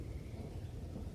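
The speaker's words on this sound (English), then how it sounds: "It's raining." Rain and thunder ambience in a fantasy role-playing game, a faint, steady low rumble with soft rainfall spread evenly throughout, no voices.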